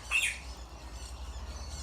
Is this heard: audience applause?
no